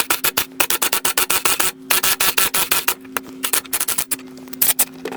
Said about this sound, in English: we're going to use the impact gun to try and get this pulled off